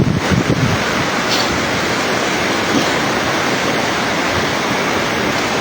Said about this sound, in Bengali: প্রচুর পরিমাণের বৃষ্টি হচ্ছে